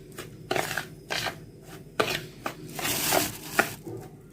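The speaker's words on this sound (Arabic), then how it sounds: "ونقلب كده المقادير مع بعض" A spoon scrapes and taps around a bowl, stirring basbousa ingredients including grated coconut, in a series of irregular strokes, close up, with no talking.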